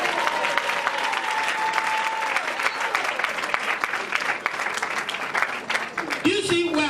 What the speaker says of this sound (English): Clap for the coach.